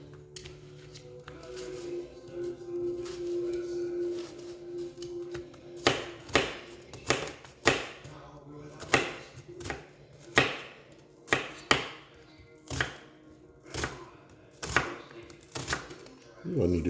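Knife chopping a small onion on a cutting board for Cajun chicken and sausage gumbo, a dozen crisp, evenly spaced close chops after a few seconds of quiet room sound.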